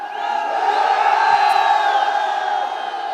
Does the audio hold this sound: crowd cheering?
yes